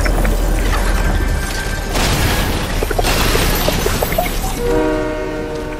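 A train rumbles through a video game with steady rolling noise, a loud horn blast, and a second horn tone near the end.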